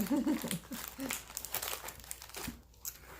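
A plastic pouch of planner stickers crinkles as it is handled and opened, soft rustling and crackling up close at low volume.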